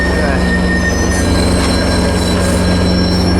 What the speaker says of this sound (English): Here comes an eastbound about to flyby on track 1.